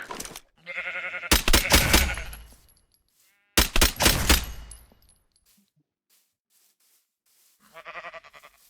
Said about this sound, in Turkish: Siyah koyun işime gelmez benim.